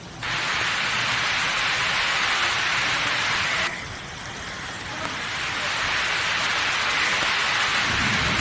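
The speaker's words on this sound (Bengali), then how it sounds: "প্রচণ্ড ঝড় বৃষ্টি হচ্ছে, নেমে গেছে, খুব বৃষ্টি হচ্ছে।" Heavy Kalbaishakhi storm rain pours outdoors as a loud, steady, dense hiss that dips briefly midway and then returns to full strength, with no clear thunderclap standing out.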